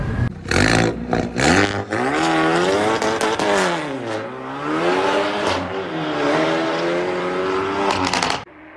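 A 300-horsepower Hyundai i30N engine grows louder as it approaches, revving hard with rising and falling pitch, loud and close, roaring steadily for several seconds before cutting off abruptly.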